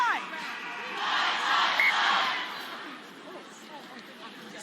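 Women's rugby crowd in a stadium at an England versus Italy Six Nations match, a broad distant roar that swells to a peak and then fades, with talk over it.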